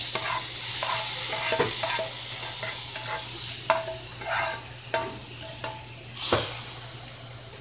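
Onion frying in a hot skillet sizzles steadily up close, broken by several sharp scraping and tapping stirs, with a louder burst near the end and a low steady hum underneath, no speech.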